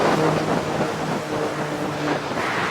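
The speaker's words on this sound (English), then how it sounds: "oh, the wind." Wind gusts buffet the microphone outdoors at Murder Creek near Brewton, Alabama, a continuous loud rumbling roar with swelling surges throughout and no speech.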